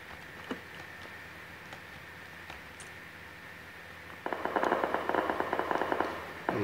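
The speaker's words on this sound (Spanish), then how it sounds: "Disparos al frente." A few scattered pops, then a sudden burst of rapid gunfire in PUBG Lite crackling repeatedly over a low background hum.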